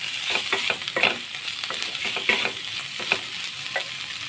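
Potato taco filling, seasoned with salt and chili flakes, is stirred in a pan, with repeated scraping strokes over a steady close sizzle and no talking.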